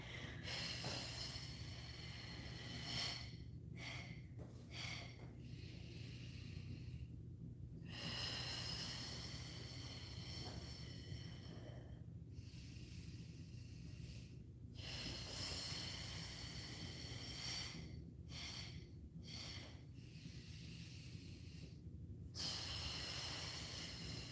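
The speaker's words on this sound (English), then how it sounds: "I'll do a couple here where you can just hear my breathing pattern." Steady rhythmic breathing during mat Pilates exercises, with long audible inhales and forceful hissing exhales repeating close to the microphone in a quiet room.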